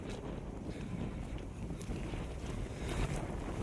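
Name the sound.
wind blowing through grass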